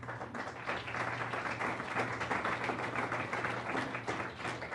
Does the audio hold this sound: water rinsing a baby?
no